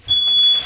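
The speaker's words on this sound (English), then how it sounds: "Yeah, that's my smoke alarm again." Home smoke alarm sounding one steady, piercing high-pitched electronic beep that holds for about half a second, fairly loud and alone over faint room background.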